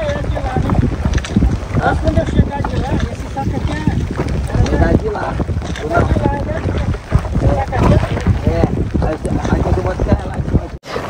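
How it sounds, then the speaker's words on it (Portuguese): Strong wind at a lake in the Amazon buffets the microphone with rough, gusty rumbling while people talk over it throughout. "Tá ventando muito."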